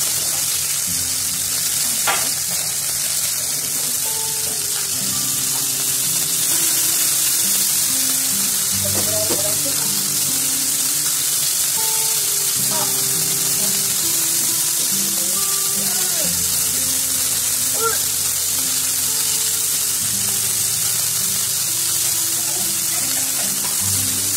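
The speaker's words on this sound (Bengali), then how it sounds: "আবার মাছগুলো ভালো করে ভেজে দিচ্ছি।" Whole Bombay duck fish frying in oil in a pan, a continuous loud sizzle and crackle running throughout, with occasional clinks and stirring noises over the steady hiss.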